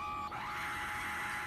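Screamer zombie in 7 Days to Die letting out a sustained high, harsh scream that starts abruptly and holds steady for over a second over low game ambience.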